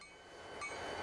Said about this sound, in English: our short westbound train continues its frigid journey through the wide-open winter vastness